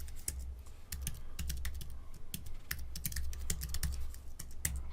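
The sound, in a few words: typing on a computer keyboard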